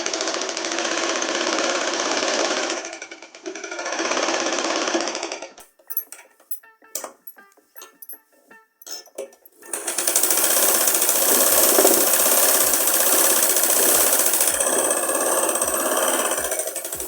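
An electric sewing machine double-stitches a fitting seam on a young girl's umbrella frock: a loud steady whirring run, then a pause of scattered ticking clicks, then a second long run of stitching.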